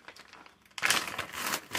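Plastic packaging crackles and crinkles loudly up close as a freeze-dried food pouch is pulled open, after a softer rustling start.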